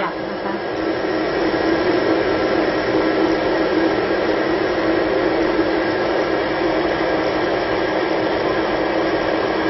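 An electric blender runs continuously, mixing a thick tofu salad dressing with oil, a loud, even whirring drone that lasts throughout without pause.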